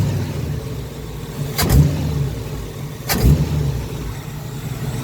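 Two quick throttle flicks rev the V8 engine of a 1971 Chevy Camaro with an adjusted carburetor accelerator pump. Each brief blip swells above a rough, rumbling idle, about a second and a half apart.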